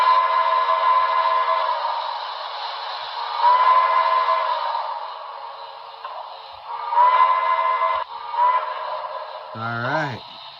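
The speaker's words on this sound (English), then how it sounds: "let's try the whistle" Steam whistle from a BLI 2-8-0 model locomotive's sound system, sounding in several sustained blasts of a few seconds each, steady and fairly loud, with a brief tonal sweep at the very end.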